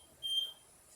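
An electronic device gives a single short high-pitched beep, faint and steady against a quiet room background.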